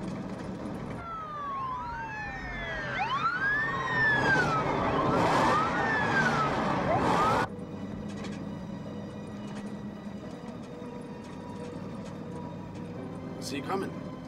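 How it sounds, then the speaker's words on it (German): Police sirens approaching on a road out of town, rising and falling wails that grow louder and overlap, then cut off abruptly, leaving a quieter background with faint tones. "Sie kommen. Ich höre die Sirenen schon."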